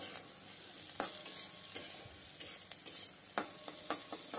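Quiet, close stirring in a pan of onions frying with dried chili, bay leaf and cumin: soft sizzle under scattered scraping and tapping clicks, no speech.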